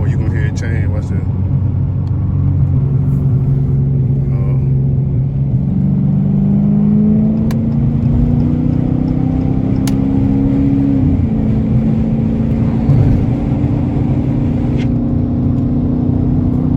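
A straight-piped RT car switched into sport mode accelerates hard in traffic, its loud exhaust droning with a steadily rising engine note that climbs in pitch, holds, then settles into a lower rumble.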